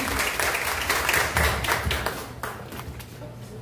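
Audience at a student reflection contest breaking into dense applause that stays loud for a few seconds, then thins and fades.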